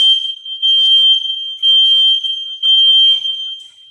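A workout interval timer sounds loud, shrill electronic beeps in repeated long bursts with short gaps between them, alone with no talk around it.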